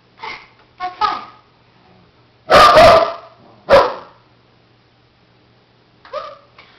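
A pet dog barks on command during a counting trick, giving a few sharp, loud barks spaced a second or so apart with quiet gaps, plus a couple of softer short yips.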